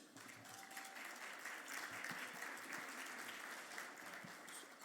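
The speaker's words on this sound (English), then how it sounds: "A big round of applause for you all and for the entire staff." Steady audience applause fills a luncheon hall at a legislative summit, dense and even throughout with no voices standing out.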